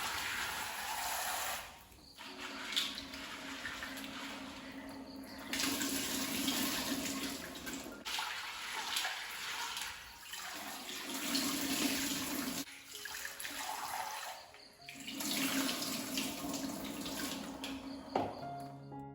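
A cup of white peas (chickpeas) washed in a kitchen sink: running tap water splashing and swishing in several bursts separated by short pauses, moderately close and with no talking.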